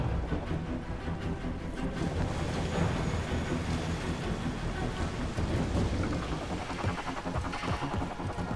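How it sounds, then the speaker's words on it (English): Steady heavy rain pours in a Mass Effect Andromeda mission, a dense even hiss that fills the scene alone and close, with low rumbling underneath and no breaks. "Hard to get a good shot in this rain."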